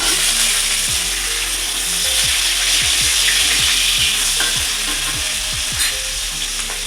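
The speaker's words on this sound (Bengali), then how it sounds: "রসুনটা যখন একটু লাল লাল হয়ে আসবে তখন পেঁয়াজটা ছেড়ে দেবে পেঁয়াজটা ছেড়ে দিন" Onion added to garlic frying in hot oil, sizzling loudly and steadily up close, with repeated scraping stirs of a spatula against the pan and no talk.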